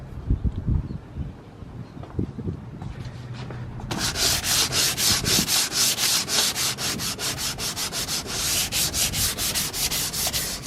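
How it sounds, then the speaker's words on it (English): Sandpaper scuffing the wheel of a G35, at first soft handling noises, then close, steady back-and-forth strokes that rasp in a quick, even rhythm to the end. "Now I'm going in with the sandpaper"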